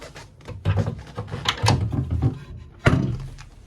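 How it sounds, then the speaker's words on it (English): Cabin doors shutting aboard a 1968 Grand Banks 42 wooden trawler, several close wooden knocks and thunks in quick succession, with a sharper bump near the end. "closed up the doors"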